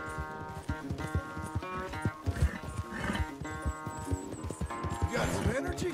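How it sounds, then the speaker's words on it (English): Horses in Red Dead Redemption 2 clop steadily on hooves with snorts and livestock sounds, mixed under background game music and ambience. "Where's that big mean horse?"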